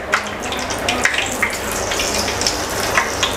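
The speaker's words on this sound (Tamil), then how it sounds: "கீழேருந்து மேலே வந்து பொரியுது" Vada batter deep-frying in hot oil at home, a steady crackling sizzle with scattered sharp pops and bubbling bursts throughout, close and fairly loud, no voices.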